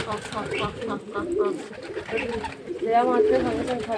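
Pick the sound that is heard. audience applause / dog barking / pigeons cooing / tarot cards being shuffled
pigeons cooing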